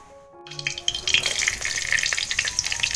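Chili dropped into hot oil in a pan sets off a loud, close, steady crackling sizzle that starts after a brief quiet moment and keeps hissing without a break.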